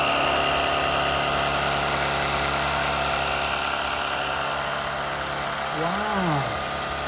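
A Sun Joe cordless power cleaner spraying water, a steady loud close motor whine with a constant rushing hiss throughout, its pitch briefly wavering near the end.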